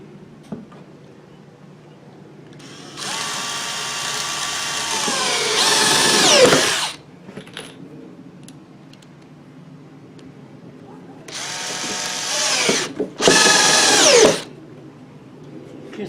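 A power drill drives screws into wood while assembling a silkscreen shop fixture, giving two loud whirring bursts of several seconds each, the second broken into quick runs, with a quiet pause between them.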